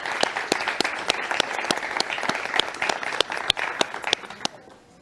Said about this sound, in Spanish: Un fuerte aplauso, por favor, para la doctora Alexandra Sánchez Fernández.